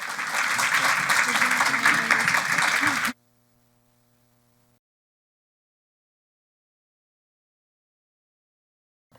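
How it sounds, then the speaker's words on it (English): Audience applause for a panel at an investor advisory summit, a dense burst of clapping for about three seconds that stops abruptly, leaving near-silence with a faint low hum. "please join me in a round of applause for the panel"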